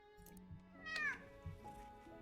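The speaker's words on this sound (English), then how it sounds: "There's a cat." A cat meowing faintly indoors, one rising-falling meow with a few softer calls around it, quiet and a little distant.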